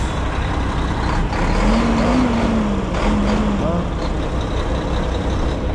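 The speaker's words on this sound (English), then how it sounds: "Old Mac roaring. You hear me?" An old Mack truck's diesel engine roars steadily at a factory roadside, a loud continuous rumble with a rising and falling drone and distant traffic around it, while someone talks over it.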